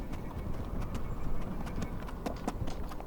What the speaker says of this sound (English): They led their horses straight through the village.